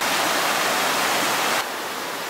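Water rushes over the cascades of the Vistula River, a steady broadband roar that fills the whole stretch, close and loud, dropping slightly in level near the end with no voices present.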